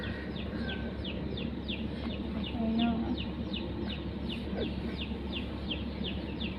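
Roosters at a Thai cockfight crow and cluck in repeated calls over a busy crowd murmur, with someone briefly speaking nearby.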